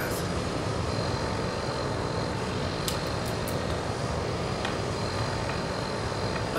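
A Tucano turboprop trainer's engine during spin recovery, a steady loud drone heard from the cockpit, with wind noise and a few brief clicks and ticks on top.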